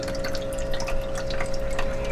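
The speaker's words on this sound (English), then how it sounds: "you can see rushing water coming through right there" Water rushes and trickles steadily through an Aerogarden hydroponic system, a continuous close bubbling flow with a faint pump hum beneath it.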